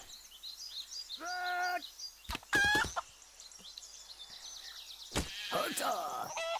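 A chicken in the video game Craft the World clucks in a few short, bright bursts, close and clear, mixed with sharp game sound effects.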